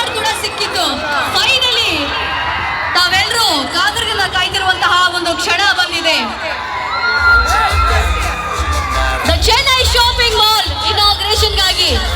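Dense, loud crowd cheering and shouting with children's voices and whoops at a shopping mall opening in Davanagere, sustained without pause and swelling louder in the second half under a steady low rumble.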